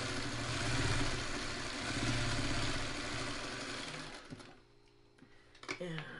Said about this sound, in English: Now I'm going to sew so my seams don't flip.